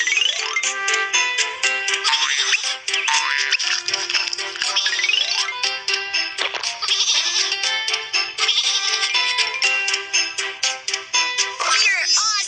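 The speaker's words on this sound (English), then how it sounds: "Some sheep are on the train track." Cartoon sheep on a train track give continuous, loud, high-pitched bleats layered over bright musical tones, with no pause across the stretch.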